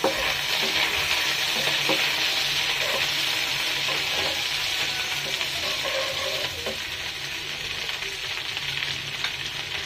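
Whole green chilies are stirred into frying okra, bringing a loud, steady sizzle close by with faint scraping from the stirring and no talking.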